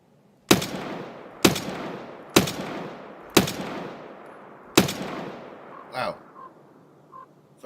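Escape From Tarkov gunfire: five loud, sharp single shots spaced about a second apart, each trailing into a long echoing decay, then a few fainter scattered clicks and knocks.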